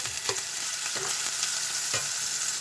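Liver frying in a pan, a steady close sizzle with a few light scraping stirs, no voices.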